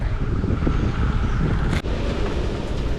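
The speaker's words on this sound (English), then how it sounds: "We got some gusts coming through." Strong wind gusts buffet the microphone aboard a sailboat in a steady roar, with a brief sharp rustle partway through.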